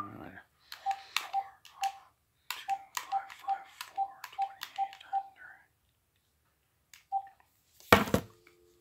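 Cell phone keypad tones beep in quick repeated bursts, a steady run of short even-pitched presses, followed by a louder crackly burst near the end; quiet and close with no talk.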